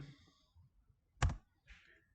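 Faint keystrokes on a computer keyboard as an AutoCAD command is entered, a few scattered soft clicks with one sharper tap, quiet and close with no talking.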